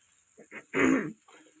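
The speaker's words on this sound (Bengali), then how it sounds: "এত কাশি হচ্ছে মাঝে মাঝেই" Someone feeling unwell coughs nearby in a quiet room: two short, soft throat bursts, then one louder, rougher cough lasting a moment, followed by a faint trailing sound.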